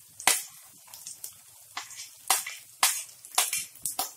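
Green chilli, beans and carrot stir-fried on a high flame, giving a series of sharp, irregular sizzling bursts and tossing clatters over a quiet background.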